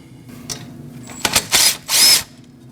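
A power tool spinning out a 10mm bolt from the ABS sensor on a Jeep Cherokee, a few short whirring bursts, the last two longer and louder, close up.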